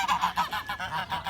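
A flock of geese honks loudly and close by in a rapid series of harsh, nasal calls.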